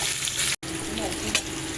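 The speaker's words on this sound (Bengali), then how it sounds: "এভাবে একটু ভাজবো বেশ কিছুক্ষণ।" A vegetarian dish with soaked dried peas is frying and being stirred in a pan, a steady close sizzle running throughout with a brief drop to silence near the start.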